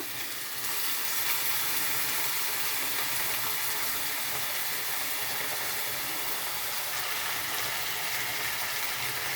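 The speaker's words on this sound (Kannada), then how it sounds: "ಈರುಳ್ಳಿನ ಟೊಮೊಟೊನ ಈ ರೀತಿ ಎಣ್ಣೆಯಲ್ಲೇ ಫ್ರೈ ಮಾಡ್ಕೊಬೇಕು" Chopped onion and tomato fry in hot oil for a Karnataka-style moong dal sambar, giving a steady, close, fairly loud sizzle that holds evenly throughout with no voices.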